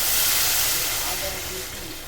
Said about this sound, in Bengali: তো ওইদিকে জলটা দিয়ে দিচ্ছি